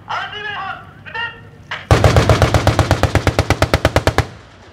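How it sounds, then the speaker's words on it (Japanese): A Type 87 reconnaissance combat vehicle firing its autocannon during the 2019 Fuji Firepower Review live-fire exercise, heard as a loud, steady burst of about twenty evenly spaced shots, preceded by a brief voice over a loudspeaker. "左両線の RCV が敵の兆候があるオレンジの台に対して不意吸収射撃を行います。"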